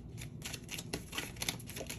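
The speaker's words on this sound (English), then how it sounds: "Inspired to shuffle on this one." Tarot cards being shuffled by hand: quiet, rapid papery riffles and flicks in quick irregular bursts, faint and close, with no talking.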